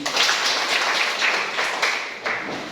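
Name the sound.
group clapping hands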